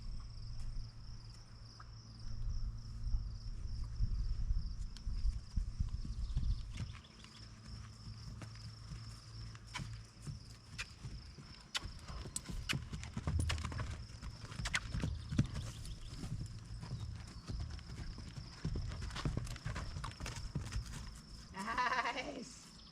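Horse Aries cantering, hooves thudding in a steady, fairly close clip-clop rhythm alongside a constant high insect drone, with a brief rustle near the end.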